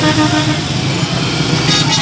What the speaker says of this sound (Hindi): अब ये सारी साइड से ट्रैफिक खुल गई है।